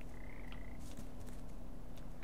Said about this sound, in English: Look at these frogs.